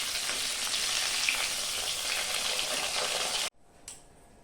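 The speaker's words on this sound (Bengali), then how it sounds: "তো মাছ কটা ভাজা হয়ে গেছে, আমি এখন নামিয়ে দিব।" Pieces of chital fish fry in oil with a dense, loud sizzle for about three and a half seconds before it cuts off sharply, leaving near silence and a faint clink.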